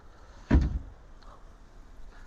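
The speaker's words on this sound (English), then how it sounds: "Let me show you this door." The side door on a 2024 Saxdor 270 GT boat gives one firm thud as it shuts, a short close knock over low background hiss, with no talking.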